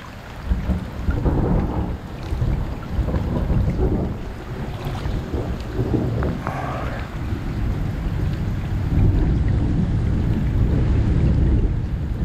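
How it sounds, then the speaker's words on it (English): Heavy rain pours down outdoors around a blocked drain, a dense, continuous rushing hiss with low rumbling and gusty wind noise on the microphone, steady and close throughout. "And here comes the rain again."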